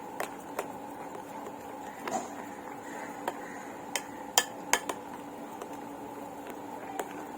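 Spoon whisking amrakhand mixture in a bowl, a soft steady scraping under scattered sharp clinks of the spoon against the bowl's side, quiet and close with no talk.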